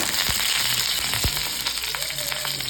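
Fish roe fries in oil in an iron pan with a continuous close sizzle, punctuated by a few soft pops and thumps.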